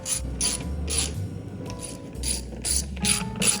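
A ratchet snugs down a bolt on the wiper motor of a 1999 Plymouth Grand Voyager van, its pawl clicking in quick bursts of repeated strokes with short pauses between, close and fairly loud.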